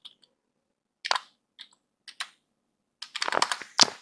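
Typing on a computer keyboard while working in a spreadsheet: a few isolated key taps, then a quick burst of clicking keystrokes close to the microphone, with quiet pauses between.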